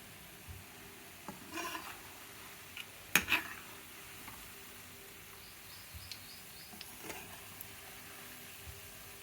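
Gulab jamun mixture is stirred slowly in a pan over low heat: soft, faint scraping and rubbing strokes, a few brief clinks of the spoon, and a sharp scrape near the middle against a quiet background.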